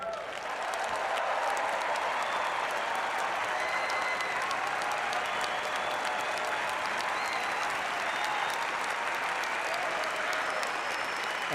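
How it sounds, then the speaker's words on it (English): A large audience applauds steadily and at length after a political speech by Trump on dismantling the Iran deal, the dense clapping staying loud and even throughout with no break. "Those in attendance ate Trump's spiel up, applauding extensively."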